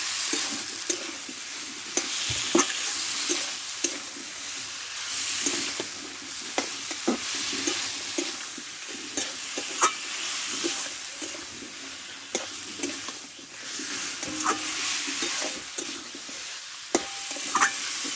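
Amaranth stems sauté with spices in a pan, sizzling steadily for a long stretch while a spoon scrapes and stirs at an irregular rhythm, with no talking.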